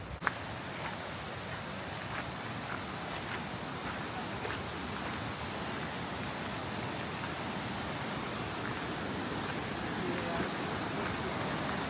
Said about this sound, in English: You can hear the river.